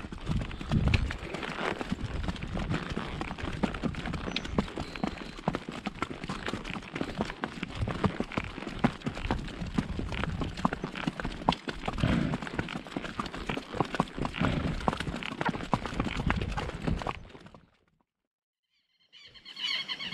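Horse hooves clip-clop continuously over a long stretch as horses are readied for a group trail ride, steady and fairly loud with outdoor noise, then stop abruptly near the end.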